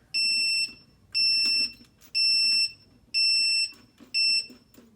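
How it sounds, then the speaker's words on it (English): A sump pump backup battery unit sounds a loud, piercing electronic alarm in five evenly spaced beeping bursts, each about half a second long with short pauses between. "as soon as the unit recognizes that it has the batteries installed, you're going to have the alarm silenced"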